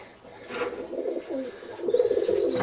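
Tippler pigeons in a well-planned loft, making soft, low repeated coos at moderate distance, with a higher bird call rising near the end.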